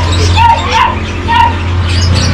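Dogs at a Kataban pet shop give off short barks and whimpers, a few brief yips over a steady low hum and crowd noise, fairly close but partly buried in the busy background.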